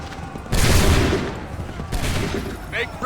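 Musket volleys from lines of soldiers in Assassin's Creed III, two loud ragged fusillades about a second and a half apart, each a sharp crackling burst that rolls off into a fading rumble.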